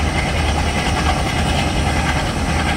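A WDM3D diesel locomotive hauls a Duronto Express in an Indian train simulator game, giving a loud, continuous rumble of engine and rolling wheels that holds steady throughout with no voices.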